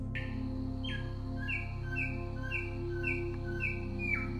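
A samyong bird from the Kelimutu lakes area calls in a series of short, clear whistled notes that step between two pitches in a steady rhythm, heard over a constant low hum.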